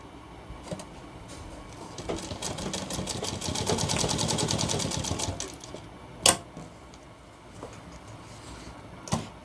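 A sewing machine runs a steady, rapid stitching burst along a shirt collar for several seconds, then stops, followed by a few sharp clicks and knocks from handling the fabric and machine.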